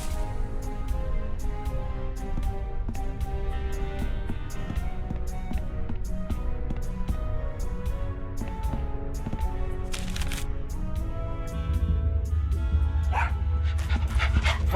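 A cartoon dog in the adventure game Tales of Monkey Island pants steadily over background music, with a few short barks and yips near the end.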